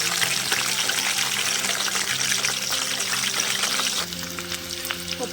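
Onions and green chilies frying in hot tempering oil for a village-style chicken curry, a steady loud sizzle and crackle running the whole time with no talking over it.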